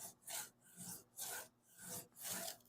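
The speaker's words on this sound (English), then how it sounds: "I'm going to hit it real lightly and see. If you do it too quick, it really clogs up the sandpaper." Sandpaper rubs over soft body filler on a rusted wheel lip of a Monarch car, in four light back-and-forth rasping strokes, close and steady with short pauses between them and no talking.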